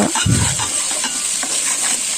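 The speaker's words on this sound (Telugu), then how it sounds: "వేయించుకోండి ఇలా బ్రౌనిష్ కలర్ వచ్చే వరకు" Onions sizzle in hot oil in a pan while being stirred and browned for chicken dum biryani, a loud, steady hiss with a brief low scrape of stirring near the start.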